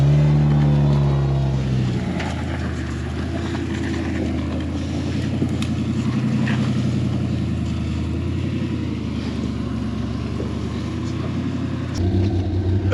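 Off-road rock crawler engine crawling slowly up a rock trail, a steady low rumbling drone with gentle throttle changes and a brief rise near the end, with faint talk underneath.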